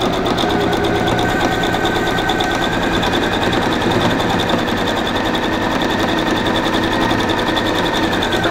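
A sewing machine stitches a fabric seam in a continuous, rapid mechanical whir with fast rhythmic needle ticking, running loud and close throughout.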